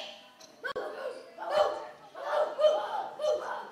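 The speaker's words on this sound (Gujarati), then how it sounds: "ત્યાં પહેલો કૂતરો આ ઘરમાં ઘૂસી રહ્યો છે" A dog barks several times in short bursts, moderately close, with a brief sharp knock early on and some voices faintly mixed in.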